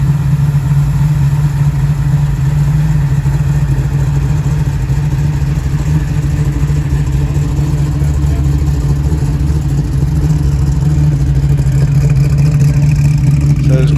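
A heavy-sounding car idling at a Conrodders show-and-shine in Hervey Bay, Queensland, with a deep, steady engine rumble held loud and close throughout.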